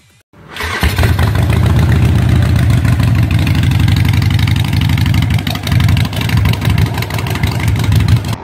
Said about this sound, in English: The exhaust note on V-twin is very unique because of its uneven firing intervals.